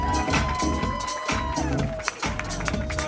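A crowd cheers, whoops and claps for dancers after an open styles dance battle final, loud and continuous with excited shouting and whistles filling the room.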